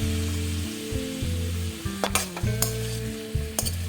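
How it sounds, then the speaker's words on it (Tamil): Potatoes and cauliflower sautéing in oil for a curry, a loud close sizzle broken by a few sharp spatula scrapes and stirring knocks against the pan. "இந்த உருளைக்கிழங்கையும் நம்ம வந்து காலிஃப்ளவரோட சேர்த்து நம்ம வதக்கி விட்டுடலாம்"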